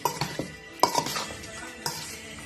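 A spoon stirs liboke ya ngulu ingredients in a pot, with close clinks and scraping against the metal and a few sharper knocks over a soft, steady background.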